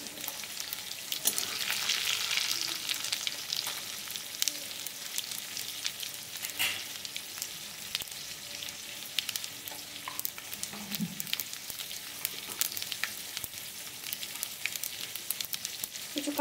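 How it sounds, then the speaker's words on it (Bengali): Panch phoron and cumin seeds sizzle in hot oil for a vegetarian Malabar spinach dish, giving a continuous bright crackle that is loudest early on and then settles into a steady hiss with occasional pops. "আমি পাঁচ ফোড়ন আর জিরে দিয়ে দিলাম।"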